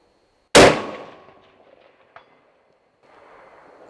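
A single loud 6.5 Creedmoor rifle shot at an outdoor range, a sharp close crack with a ringing decay, followed by a faint distant tick of the bullet striking and then quiet background noise.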